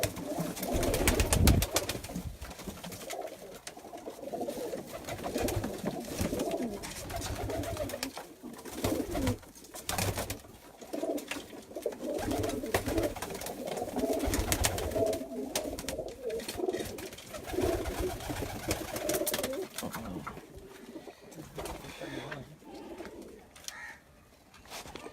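Pigeons coo steadily in a rooftop breeding loft, their low, rolling calls overlapping close by and continuous, with no talking over them.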